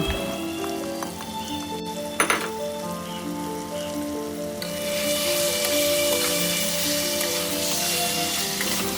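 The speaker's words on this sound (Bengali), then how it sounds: "মশলাটি ভাজা হয়ে এলে এবার ম্যারিনেশন করে রাখা চিকেনটিকে তার মধ্যে দিয়ে দেব" Marinated chicken dropped into frying spices in a pan, a steady sizzle with a clatter as it goes in, then the hiss grows louder and fuller for the rest of the clip, up close with no speech.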